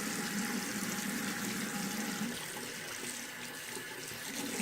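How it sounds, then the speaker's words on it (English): Lukewarm water streams steadily from a sink tap as a watercolor brush is rinsed beneath it, a close, continuous hissing splash with slight shifts in flow and no talking. "first thing I do when I've been painting with one is rinse it."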